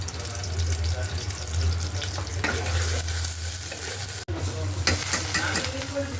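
Chopped onion and garlic frying in mustard oil in a pot as the base for a dal bhuna, a steady close sizzle with scraping stirs and a brief cut near the end.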